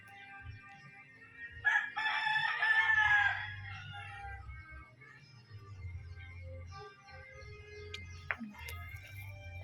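A rooster crows loudly and nearby, a single drawn-out call, with chickens clucking softly around it over a low rumbling background.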